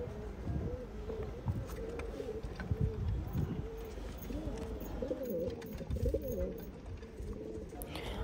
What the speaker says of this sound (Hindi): ऐसा क्वालिटी कबूतर है, बहुत बढ़िया कबूतर है।